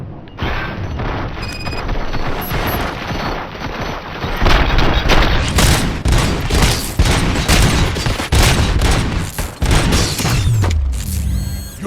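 Gunfire in the video game Robocop: Rogue City, loud bursts of shots and heavy booms spread across several seconds, with mechanical clanks and ratcheting between volleys.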